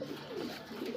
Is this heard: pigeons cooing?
yes